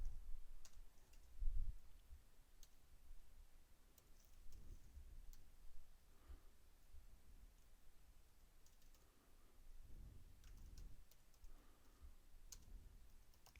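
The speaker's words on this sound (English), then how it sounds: "So, in terminal, we'll type" Sparse, quiet keystrokes on a computer keyboard while typing a command into the Mac OS X terminal, scattered clicks spread unevenly over a faint hum.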